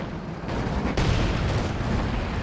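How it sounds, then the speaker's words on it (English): A tank strikes a Teller mine in Company of Heroes 2, setting off a heavy booming explosion that flares abruptly within dense rumbling battle noise and then settles into a continuing low roar. "Oh, hit a telemine."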